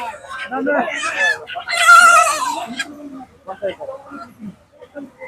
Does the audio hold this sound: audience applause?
no